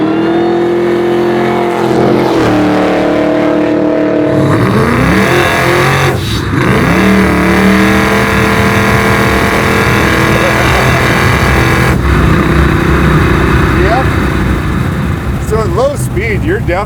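A supercharged 750 whp Chevy Blazer revs hard and spins its tires, the engine roar loud and close throughout with rising, falling pitch sweeps and gritty tire noise.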